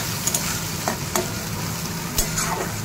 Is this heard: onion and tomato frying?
yes